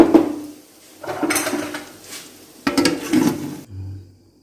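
Metal pot lid set down over a pan of lentil and vegetable curry cooking with onion and garlic greens, giving a few clattering knocks and scrapes in separate bursts, close and moderately loud, then a low settling rattle.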